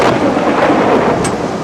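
Heavy thunderstorm with rain in a film scene, a loud low rumble of thunder rolling under a dense wash of pouring rain, steady and close throughout the short stretch.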